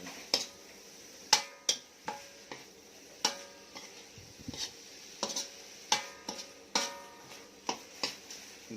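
Field rat meat is stir-fried in a pan. Sharp metallic taps and light scrapes of a utensil against the pan come at irregular intervals, close and fairly quiet, with no voices.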